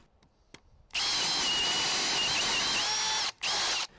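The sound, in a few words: power drill boring wood with paddle bit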